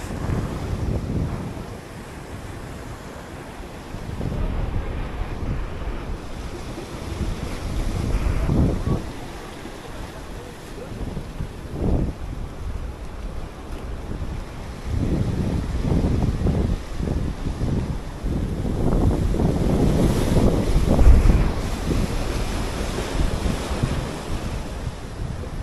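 Wind gusts and rushing waves at sea aboard a boat, a loud blustery roar that swells and eases over time, with heavy microphone buffeting and no voices.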